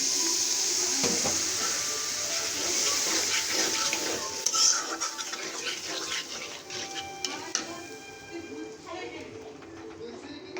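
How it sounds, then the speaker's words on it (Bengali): Water is poured into a pan of frying spices, setting off a bright hissing sizzle that crackles on and gradually settles, with faint background sounds. "একটু পানি দিয়ে দিলাম।"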